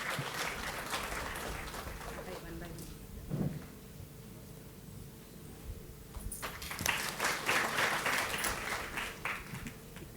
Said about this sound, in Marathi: जोरदार टाळ्या जयंतीताईंसाठी.